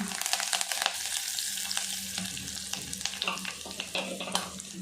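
Cumin seeds and curry leaves frying in hot oil in a pan for a fish curry, a loud, close, continuous sizzle with crackling pops and some stirring.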